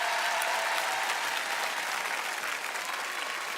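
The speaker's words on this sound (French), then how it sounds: "tonnerre d'applaudissements pour le papa" Audience applause at a televised singing show in front of a live crowd, with steady, dense clapping that stays loud and close throughout.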